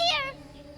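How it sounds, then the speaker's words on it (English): Cat meowing from inside a shrine in the Genshin Impact video game: a single short, fairly faint meow over a quiet game background. "It's just a cat."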